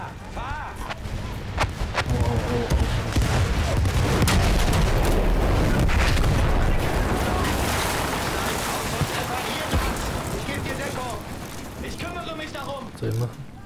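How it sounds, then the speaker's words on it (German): Artillery fire booms in Battlefield 1 alongside clattering mechanical noise and rumbling explosions, loud and dense for most of the stretch, with players talking over it. "Artillerie!"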